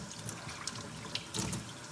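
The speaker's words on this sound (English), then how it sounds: "Let me rinse out my rag." Water from a tap runs and splashes over a cleaning rag being rinsed out, a brief, steady watery rush with small splashy bursts, close by and moderately loud.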